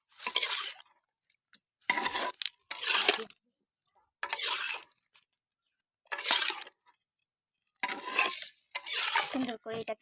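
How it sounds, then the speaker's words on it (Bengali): Egg korma being stirred in a pan, with bursts of metal spoon scraping and clatter against the pan separated by short pauses, close and fairly loud. "এখন এটাকে সুন্দর করে নাড়াচাড়া দেব।"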